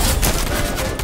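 Rapid gunfire in the Fortnite video game, a dense, continuous burst of shots filling the whole second at steady loudness with no talk.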